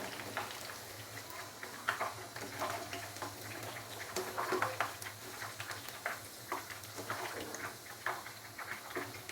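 Chicken lacha pakoras are lifted out of hot frying oil in a home kitchen. A soft, steady sizzle runs under scattered clinks and scraping taps from the utensil as the pieces come out.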